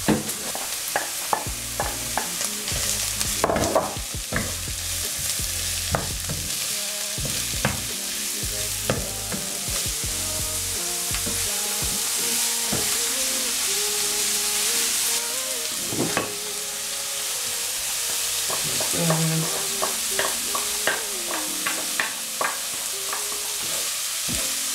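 Chopped onion and ginger fry in a pan with a constant loud sizzle, broken by repeated scraping and stirring strokes from a utensil and no talking.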